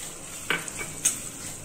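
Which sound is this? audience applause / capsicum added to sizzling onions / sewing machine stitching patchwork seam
capsicum added to sizzling onions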